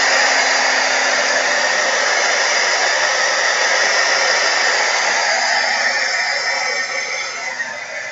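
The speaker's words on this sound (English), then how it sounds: "I'm going to dry this" A hair dryer blows steadily for several seconds to dry something fast, a loud, close, continuous rushing whir that eases slightly near the end, with no talking.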